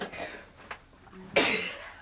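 A single sharp, close sneeze caused by dust allergy while hoarded beauty products are cleared out, following a brief softer sound in a quiet room.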